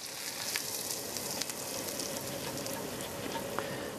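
A cooked seed mixture going into cauliflower for a cauliflower soup gives a steady, close hiss of sizzling with scattered crackles throughout. No one speaks.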